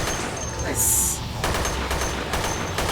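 Rapid bursts of gunfire from the VR shooter game Dead Effect 2, a quick volley of sharp shots with a bright crackle mid-burst and further shots following.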